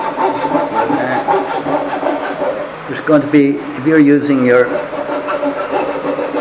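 Coping saw cutting through wood for wooden bricks: steady rhythmic back-and-forth rasping strokes, close and fairly loud, with a person talking over the middle of the cutting.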